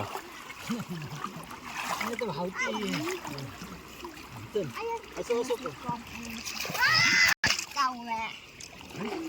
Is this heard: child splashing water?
yes